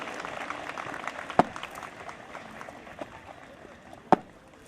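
A crowd at a police passing-out parade claps in a steady, muffled patter, with a couple of sharper bursts and some voices mixed in.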